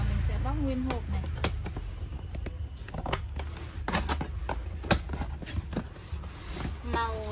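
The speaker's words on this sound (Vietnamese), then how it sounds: "Bây giờ là mình sẽ bóc nguyên hộp này." Unboxing the carton of a black Panasonic SR-HL151KRA 1.5-litre induction rice cooker: sharp cardboard tearing, flap snaps and rustling come in irregular bursts close by, while someone talks over the handling.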